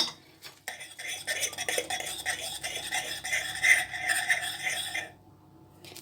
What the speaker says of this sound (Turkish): Bir yemek kaşığı tereyağımı ekleyip iyice çırpıyorum.